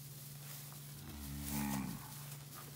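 Young Brayford and Beefmaster cross ranching cattle moo once, a low, drawn-out call rising to a peak and tapering off, heard from moderate distance over a steady background hum.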